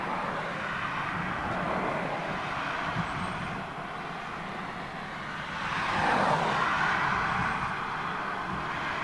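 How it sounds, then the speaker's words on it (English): A Globemaster military transport aircraft flies over from the north at RAF Fairford, a broad jet-engine roar that stays steady then swells as it passes overhead. "Globemaster, flying over from the north."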